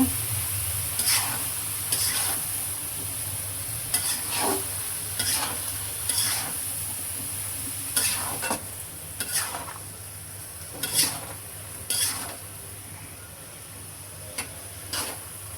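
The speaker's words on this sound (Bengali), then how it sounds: "লাউ দিয়ে ভালো করে চিংড়ি মাছ দিয়ে আবারও ভালো করে কষিয়ে নেব।" Bottle gourd and shrimp being stir-fried in a pan for a Bengali home dish, with a steady soft sizzle and repeated sharp scrapes and clinks of a spatula against the pan at an uneven rhythm.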